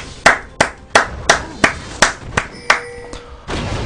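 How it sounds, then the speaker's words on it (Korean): Sharp hand claps land in a steady beat, about ten distinct strikes spaced roughly a third of a second apart, close and fairly loud during a League of Legends game stream with Irelia versus Maokai in the top lane. "마이클 박수"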